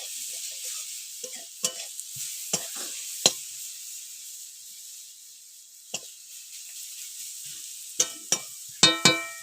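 Food being stirred in a frying pan over a soft sizzle, with sharp scrapes and knocks of the utensil against the pan at irregular intervals, clustering into several quick hits at the end.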